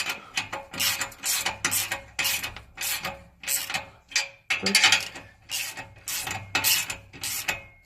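Close, loud ratchet clicks come in about a dozen rhythmic bursts as a ratchet wrench tightens an exhaust clamp on a Peugeot 206 1.4i.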